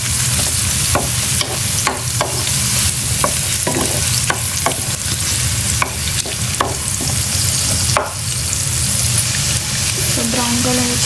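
Onions frying in a pan for a palak potato curry, a loud constant sizzle punctuated by regular scraping stirs, close up.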